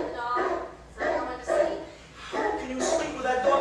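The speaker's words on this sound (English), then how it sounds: "How can you sleep with that dog screaming like that?" A dog barks and yelps loudly in repeated bursts with whimpering tones between them, close by and alone.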